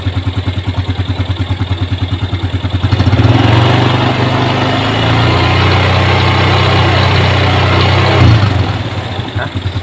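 A Yamaha Jupiter Z1 motorcycle engine idling with a rapid chugging beat, then revved with a throttle blip into a louder, steady rise before settling back to idle, close by.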